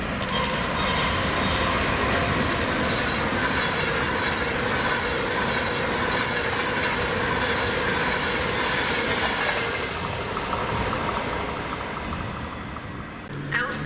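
An Avanti West Coast class 390 train, unit 390128 on a Euston to Glasgow Central service, passing through Stafford station as a loud continuous rumble of wheels and clattering rail joints that eases slightly near the end.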